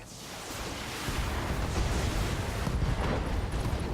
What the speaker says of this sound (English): So, Behemoth can make a precision strike too.